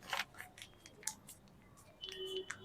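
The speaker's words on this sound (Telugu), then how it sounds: "జిప్ తీసి లోపల ఏమేమి వచ్చాయో చూద్దాం." A small microphone carry bag being unzipped, heard as short, faint rasping scrapes and rustles in a quiet room, with brief pauses between pulls.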